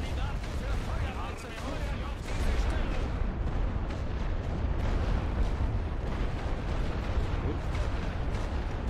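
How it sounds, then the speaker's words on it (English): Friendly artillery bombardment in the World War I game The Great War, a dense, continuous rumble of heavy booms and bursts, with voices faintly mixed into the din. "A lot of friendly artillery fire."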